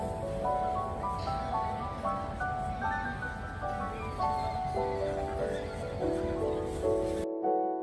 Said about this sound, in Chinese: 参赛小马车按固定路线绕圈，并完成规定的动作。